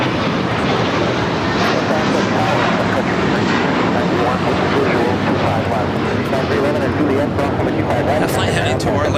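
An American Airlines Airbus A321 jet airliner at LAX produces a loud, continuous broadband roar of engine noise that fills the whole stretch and masks any other sounds.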